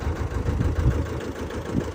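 A tractor engine runs steadily during wheat sowing, with a close, low, throbbing idle rumble and no voices.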